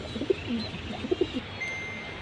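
Pigeons coo in short soft bursts, several low throaty calls close by at irregular intervals over a quiet background, with no one speaking.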